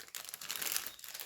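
A plastic bag holding leftover diamond art kit pieces crinkles steadily up close, a continuous papery rustle that swells and fades over about a second, with no talk.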